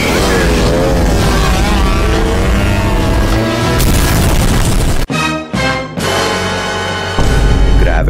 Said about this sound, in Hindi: लेकिन विलन रॉकेट लॉन्चर लेके खड़ा हुआ है एंड ये इसने रॉकेट छोड़ दिया।